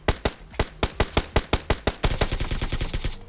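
Gunfire in the PUBG Mobile battle royale game on a desert map: a string of sharp, loud single shots followed by a rapid automatic burst, with no talk over it.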